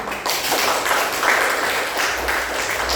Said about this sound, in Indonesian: kita berikan dulu aplaus tepuk tangan untuk kelompok 1